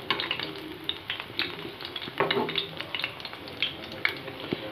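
Pea-shell pakoras frying in oil over a medium flame give a steady, crackling sizzle with scattered pops and spatters, close by and moderately loud throughout.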